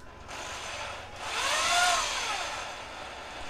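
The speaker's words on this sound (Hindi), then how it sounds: "तो हम के पास ड्रिल मशीन है, तो हम इसमें अभी पॉलिशिंग स्टार्ट करेंगे।" Electric drill machine running a polishing pad with rubbing compound over a bike's (Platina) paintwork, a steady whirring hum that swells in the middle and stays continuous with no talk.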